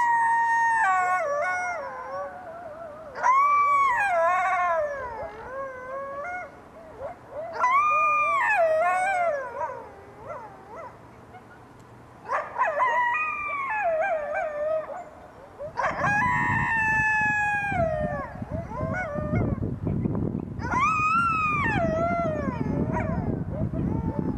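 Coyotes howl, a female nearby and a male farther off, in a series of rising, wavering yips and drawn-out wails that come in separate bursts, later over a rougher noisy background.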